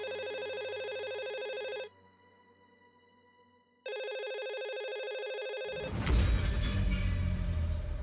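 Telephone ringing while calling a police station: a loud electronic ring with steady tonal bursts, a two-second pause, then ringing again before a rush of broadband noise at the end, with no talk.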